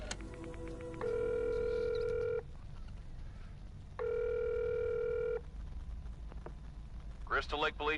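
In the horror game Friday the 13th, a phone calls the police with two long electronic ringback tones separated by a pause, over quiet ambient noise, and a voice starts speaking at the end.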